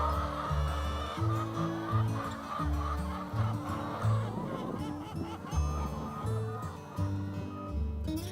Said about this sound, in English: This is funny chicken.